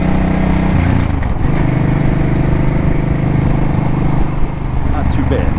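A Suzuki Boulevard C50T cruiser motorcycle engine under way, a loud steady drone with a low throbbing rumble and wind noise, and a voice talking over it.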